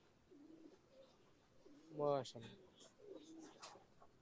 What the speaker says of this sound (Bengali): সম্ভবত এগুলো রেসার জাতের কবুতর